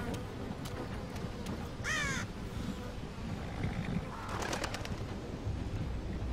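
Crows cawing in a video game scene with dead bodies, several harsh caws breaking out over a steady background hum, with a brief burst of cawing midway and another cluster near the end.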